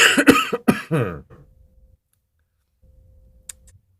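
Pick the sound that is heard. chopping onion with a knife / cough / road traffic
cough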